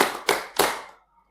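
A small junior high school counseling group claps three times in unison, in a steady counted rhythm about a third of a second apart, close and crisp, then falls silent.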